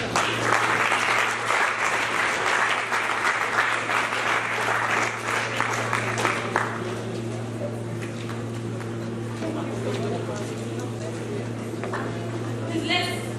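A lecture audience claps after a talk on environmental sustainability and climate change, a loud dense round of applause that thins and fades midway, leaving a low steady hum with scattered faint claps.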